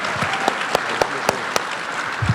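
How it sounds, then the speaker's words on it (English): Audience applause for Robert Williams at a live summer event, a steady wash of clapping from a crowd with a few sharper, louder claps standing out at regular intervals. "one final round of applause for Robert Williams"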